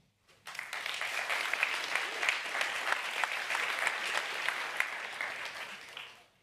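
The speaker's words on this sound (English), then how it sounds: "warm applause for Koen." An audience at a game-development talk gives a speaker a round of warm applause. It rises quickly, holds as dense, even clapping with a few sharper claps, then fades out at the end.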